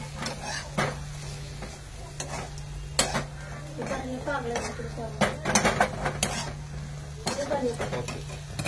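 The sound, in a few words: stirring and sautéing food in a pan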